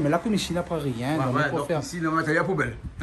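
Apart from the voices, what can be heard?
No everyday noise stands out behind the speech.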